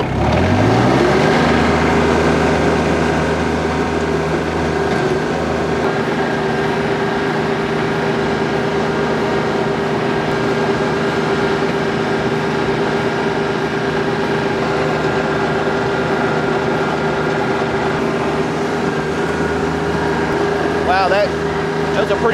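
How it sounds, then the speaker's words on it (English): Tractor running a rear tiller for a shallow pass over garden soil, a loud, steady engine drone with a constant mechanical hum that continues throughout, close and alone. "So we're going to do a shallow till and level this all out."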